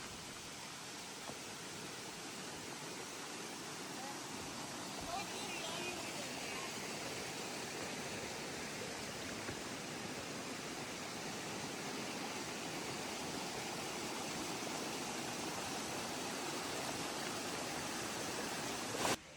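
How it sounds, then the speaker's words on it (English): Continuous broadband rushing of a waterfall beside the AMC hut on the Zealand Trail in the White Mountains, steady and unbroken throughout, with no distinct voices standing out. "It is right by a waterfall, which also makes it very popular."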